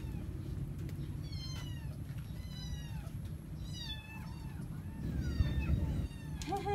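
A house cat meowing repeatedly indoors among pet rabbits and a hamster, a series of short rising and falling meows over a constant low background rumble.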